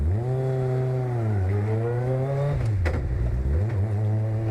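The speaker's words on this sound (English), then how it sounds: "We're driving through a lovely little village now in a race car." A road-legal Cup 200 race car rolls through a village, its engine note climbing and dipping as it revs through gears, with a sharp blip of throttle midway and a loud, close, rasping drone throughout.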